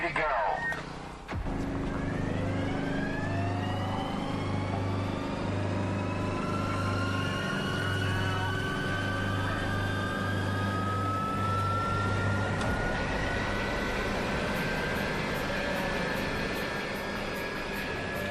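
Aircraft jet engines roar steadily behind a parked taxi during a jet-blast test, a loud, continuous rushing drone with rising whine tones that lasts throughout, while someone talks over it early on.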